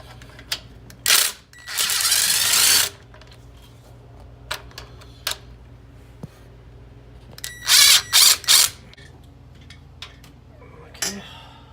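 Ratchet working loose the bolts on an alternator bracket during a billet bracket install, heard as two short bursts of clicking, one longer rasping run, then a cluster of three quick ratcheting strokes close by, with faint ticks and background hum between.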